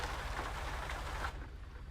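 Steady rain hiss in a truck driving video game, with a low engine rumble underneath; the rain softens noticeably partway through.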